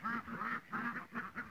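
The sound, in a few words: Muscovy ducks quacking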